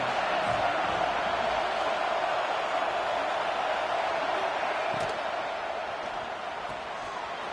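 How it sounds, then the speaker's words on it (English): A stadium crowd roars in the College Football 25 video game, a dense, steady wall of cheering that holds loud and continuous for the whole stretch, easing off only slightly toward the end. "This crowd ready to make its presence known."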